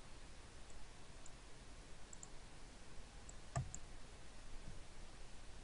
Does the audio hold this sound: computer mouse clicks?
yes